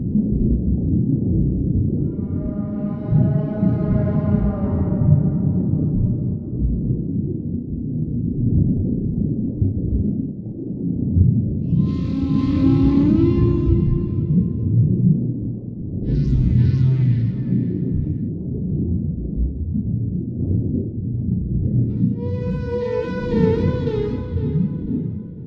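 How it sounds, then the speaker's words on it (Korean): Whale calls ring out over a constant deep, rumbling underwater drone: a long, low, moaning call, then higher, wavering cries in several separate bursts spread through the recording. "고래의 울음을 담은 소리라고 하거든요."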